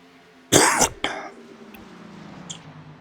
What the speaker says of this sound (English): going to try to minimize the coughing as much as I can